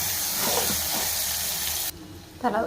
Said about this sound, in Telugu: ఇది కూడా పచ్చివాసన పోయే వరకు వేయించుకోవాలి